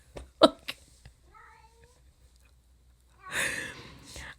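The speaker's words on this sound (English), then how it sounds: "I feel like, Kitty, yes, hi, I hear you" A house cat meows indoors, a short sharp call near the start followed by faint mewing, with a soft breathy sigh-like sound later.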